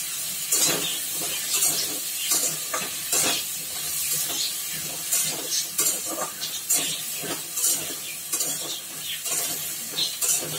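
Leaves, eggplant, stems and potatoes sizzle in a pan while being stirred, with a steady fizzing hiss broken by frequent scraping strokes and clinks of the utensil, close and moderately loud, with no talking.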